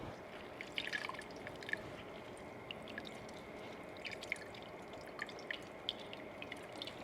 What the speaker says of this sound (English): a little squeezy squeeze of the apples through a cheesecloth